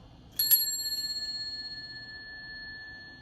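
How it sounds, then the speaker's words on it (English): A small hand bell, rung to cleanse a space, is struck twice in quick succession. Its bright metallic tone is loud and close, then rings on and slowly fades over several seconds. "Please understand I am going to use this bell from forevermore, so I need you to understand it's a little loud."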